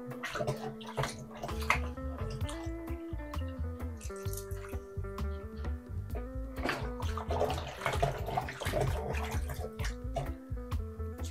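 Raw chicken feet are rinsed in a bowl of water, sloshing and dripping with irregular splashes and trickles, close and fairly quiet, with no talk.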